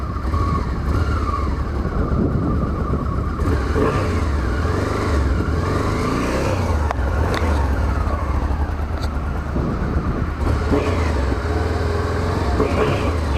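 A Honda Africa Twin XRV 750 motorcycle engine revs up and down repeatedly, its pitch rising and falling over a continuous loud rumble with crackling pops, recorded up close.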